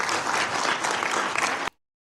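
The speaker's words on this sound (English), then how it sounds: "No one usually claps in the UN Security Council" Applause breaks out in the UN Security Council chamber right after a vote adopting a resolution, a dense, steady clatter of many hands clapping for under two seconds before cutting off abruptly into silence.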